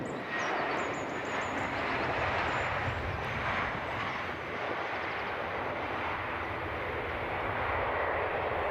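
Steady, close roar of an ATR 72 turboprop airliner's engines at Edinburgh Airport, a broad continuous drone holding level throughout with no talk over it.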